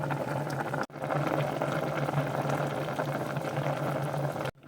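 Pot of water with broth boiling as chickpeas and noodles cook, a steady bubbling rumble with a low hum running continuously, broken by two brief cutouts.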